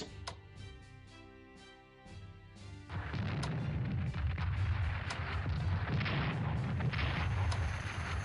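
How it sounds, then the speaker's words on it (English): Heavy anti-tank artillery fire in the Strategic Command World at War strategy game, a 1943 scenario: music at first, then from about three seconds a dense, loud, sustained rumble of booming shots fills the rest of the clip. "That's heavy artillery, but that's anti-tank."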